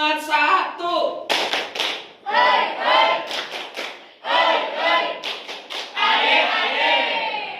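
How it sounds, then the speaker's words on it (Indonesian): A standing class claps in rhythmic bursts for a spirit clap, loud and close in a classroom, while voices shout and chant along. "Tepuk semangat"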